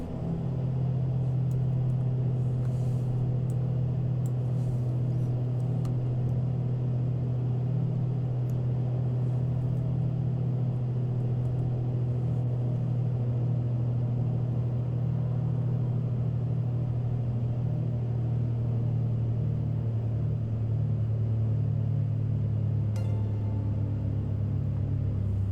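A car engine drones as the throttle is eased off, a steady low hum with a strong constant tone running throughout, close and loud, with no talk over it.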